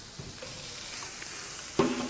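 Shrimp searing in a lightly oiled pan, giving a steady low sizzle with a couple of soft stirring clicks and a brief louder burst of frying near the end; no talking.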